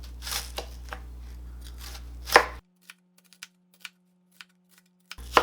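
A knife chops onions on a cutting board, with a run of sharp, close taps against the board, some single and some quick pairs, spread across a quiet kitchen.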